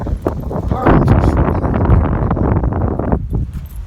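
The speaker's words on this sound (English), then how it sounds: "but it's really windy" Strong wind buffets the microphone on an outdoor walk in Florida, a loud rumbling roar with gusty surges that continues throughout.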